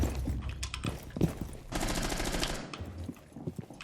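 Rainbow Six gunfire comes in several bursts of rapid automatic shots at moderate loudness, with short gaps and some faint movement sounds between them.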